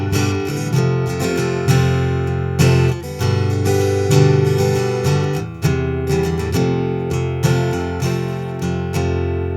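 Acoustic guitar plays through an AER MM200 or Compact 60 acoustic amp with the color switch engaged, giving bright picked notes and strummed chords in a loud, continuous passage with no talking.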